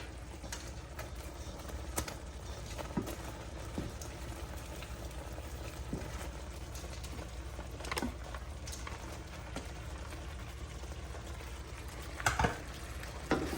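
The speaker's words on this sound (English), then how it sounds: "we're just gonna add the shrimp" Shrimp sizzle in a hot pan as they are added and tossed for a pineapple honey sauce dish, a continuous close frying hiss broken by scattered clinks and scrapes of utensils against the pan, with no talk.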